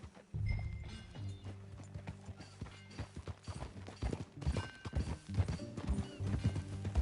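Horse hooves clip-clop in an uneven galloping rhythm as a rider moves out on horseback in Red Dead Redemption 2, with a low music bed and occasional clinks of tack running underneath.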